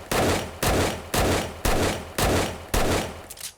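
Six heavy gunshots from a weapon fired at a zombie in the survival game 7 Days to Die, evenly spaced about half a second apart, loud and close with no talk over them.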